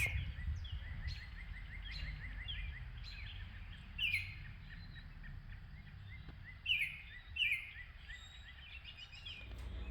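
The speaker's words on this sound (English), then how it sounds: "it's a beautiful morning and you can hear all of those birds" Morning birds chirp and sing in short, repeated phrases over a quiet, steady background, with a few louder calls standing out nearby.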